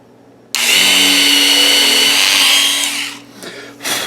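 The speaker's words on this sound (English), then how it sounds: "Now we've officially drilled our pilot hole" A power drill starts abruptly and whines loud and steady for about two and a half seconds while boring a pilot hole for a fifth-string spike in a banjo neck, then winds down with a brief second burst.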